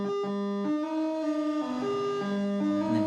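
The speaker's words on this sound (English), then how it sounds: "What's really cool is when you get that feedback sound" Buchla 288r modular synthesizer producing a sustained, shifting feedback tone with stepped pitch changes and rich harmonics, steady and fairly loud throughout with no talking.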